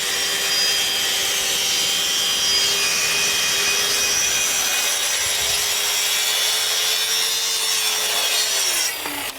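A Triton TTS1400 plunge-cut track saw runs through wood along its track with a loud, steady whine and rasping cut for about nine seconds, then the motor winds down at the end.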